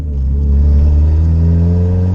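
A tuned Honda CR-V making 302 wheel horsepower accelerates hard, its engine note climbing steadily in a loud, close, continuous rising roar with no talk.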